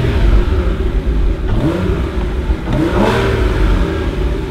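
A Porsche Boxster engine revs up twice in quick pulls, loud and close, with a rising whine over a steady rumble.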